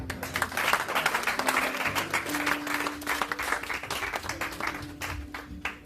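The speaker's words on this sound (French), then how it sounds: "Acclame Jésus pour ta vie." A church congregation at a Transfiguration service applauding, steady dense clapping from many hands in a reverberant hall, with a sustained tone and voices mixed underneath, fading slightly toward the end.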